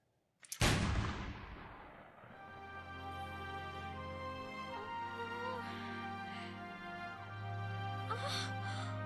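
Gunfire in the video game Final Fantasy XIII: a sharp, loud crack at the start, then a layered game score and ambience with a few faint bursts under sustained tones and no speech.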